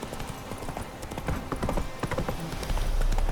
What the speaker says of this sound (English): Come on, Roach. There we go. Run, Roach